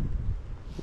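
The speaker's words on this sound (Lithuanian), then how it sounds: "nežinau kaip jūs girdit, kaip jūs matot, bet vėjas tai kosminis yra" Strong wind buffets the microphone in a brief burst of low, rumbling roar with uneven gusting pulses.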